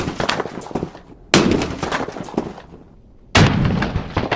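A firework charge blows up a chocolate bunny with two sharp, loud bangs about two seconds apart, each trailing off into crackling and scattering debris.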